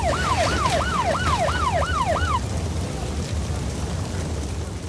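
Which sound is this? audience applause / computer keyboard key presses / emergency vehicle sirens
emergency vehicle sirens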